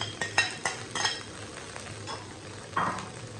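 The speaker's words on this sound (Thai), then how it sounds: "แม่เพิ่งจะผัดข้าว" Rice being stir-fried with vegetables, pork, tomato and onion in a pan, with a few sharp scraping and clinking strokes of a utensil over a low, steady sizzle.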